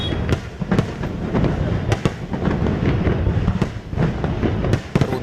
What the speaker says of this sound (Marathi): फटाक्यांची आतषबाजी आपण पाहतोय